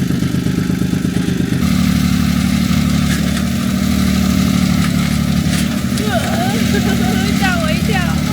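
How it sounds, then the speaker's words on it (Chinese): An old, beat-up motorcycle engine runs steadily up close, a loud continuous low clatter and drone with a few higher chirping noises over it near the end. "烂摩托。"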